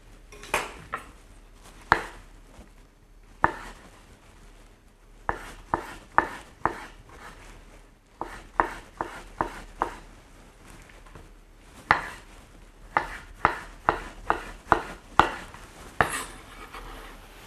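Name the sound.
knife cutting a tomato, removing the core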